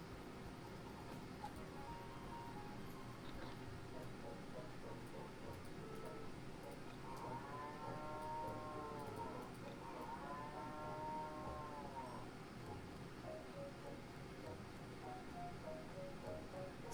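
Cows on a farm in the Harvest Moon: Island of Happiness video game give two fairly quiet, drawn-out moos in succession over a low steady background hum.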